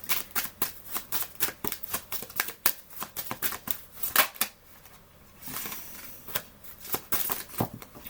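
Oracle cards being shuffled by hand, with a rapid series of crisp riffling snaps and flicks that pause briefly before softer sliding sounds and a few final card slaps close by.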